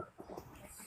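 A pet dog gives a few soft, quiet whimpering whines up close over a faint, noisy background, brief and low in level.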